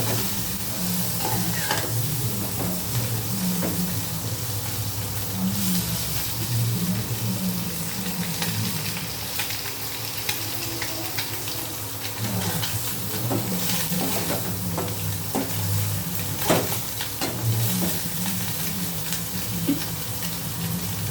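Anchovies frying in a pan, a continuous close sizzle with repeated scraping and clinking as the spatula stirs them, steady throughout.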